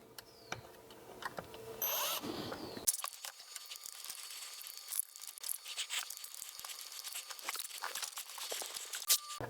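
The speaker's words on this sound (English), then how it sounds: "we're gonna go ahead and remove these two screws" A power drill spins out the bumper screws on a Traxxas X-Maxx RC truck, a close burst of whirring at the start followed by quieter clicks, taps and handling noises of the parts.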